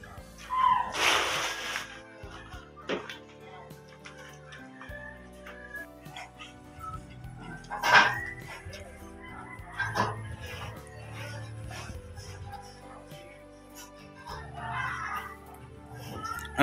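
A dog gives a few sharp barks and yips, loudest near the start and again midway, scattered among quieter household noises with some faint voices.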